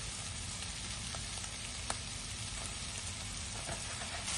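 Clams fry in a pan with coconut, Kerala style, producing a steady, close sizzle with occasional faint pops and crackles and no voice.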